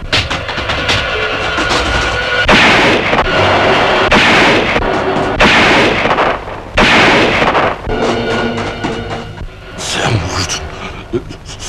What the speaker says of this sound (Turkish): Eşkıya Cumali Ala'yı vurdu!